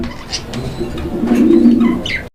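A male pigeon calls up close, a low throaty coo swelling and rolling for over a second, with a few brief chirps from other birds nearby.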